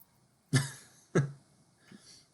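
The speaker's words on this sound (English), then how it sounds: "He coughs again and asks" Two sharp, close coughs from a man about half a second apart, followed by a softer third rasp, in a quiet room.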